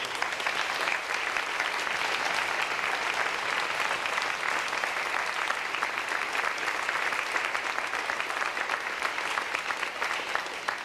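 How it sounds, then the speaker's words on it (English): Sustained applause from an audience at a school band concert honoring student performers, steady and dense throughout with no voices rising above the clapping. "So a big round of applause for all these kids and their hard work."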